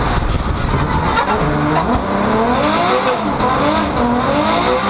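A 2013-onward Subaru BRZ sports car drives hard and close, engine note climbing and falling through revs with tire squeal over a loud steady roar.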